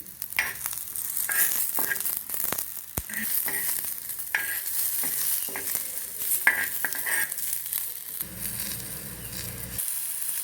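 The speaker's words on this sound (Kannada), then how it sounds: "ಮೆಣಸಿಕಾಯಿಗಳನ್ನು ಸ್ವಲ್ಪ ಬಾಡಿಸ್ಕೊಳ್ಳಿ, ಬೇಗ ಫ್ರೈ ಆಗಿಬಿಡುತ್ತೆ." Onions and green chilies fry in a pan for a Khanavali-style peanut chutney, giving a steady close sizzle with frequent scraping stir clicks and a few sharp utensil knocks.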